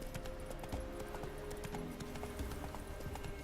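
Horse hooves trotting in The Witcher 3 game, a steady, close clip-clop rhythm of hoofbeats continuing throughout with faint game ambience behind.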